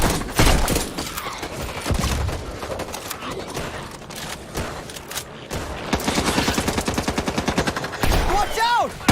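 Shooter video game gunfire: rapid automatic bursts and single heavy shots crackle loudly over a chaotic mix of game effects, with fast repeated firing toward the end.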